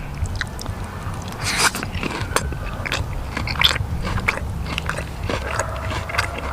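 Outback steak cooked medium-well, dipped in sauce and eaten with onion, is chewed close up with steady wet biting and crunching sounds over a low background rumble.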